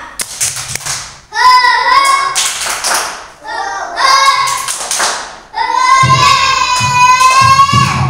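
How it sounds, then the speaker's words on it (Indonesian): Children perform a rhythmic spirit clap (tepuk semangat), chanting loudly in unison over patterned hand claps in short bursts separated by brief pauses. "yuk tepuk semangat"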